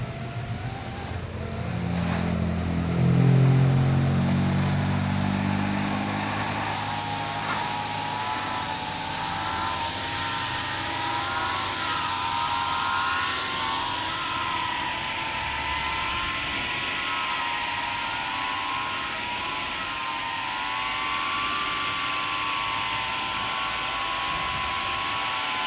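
A drone fitted with MIT toroidal propellers throttles up and flies, giving a steady, loud motor whine with a rising, wavering tone that holds throughout. An early low rumble swells briefly near the start.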